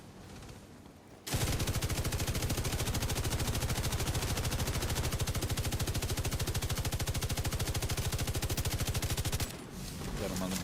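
Sustained automatic gunfire in The Division 2 video game, a dense rapid machine-gun stream that kicks in after a second and runs loud and unbroken for about eight seconds before cutting off, with talk around it.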